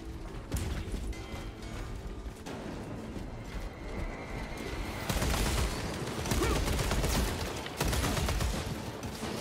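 Bolt rifle fire rattles in Warhammer 40K: Space Marine 2, a dense stream of rapid shots and mechanical clatter that grows heavier and louder partway through, under a thick wash of battle noise.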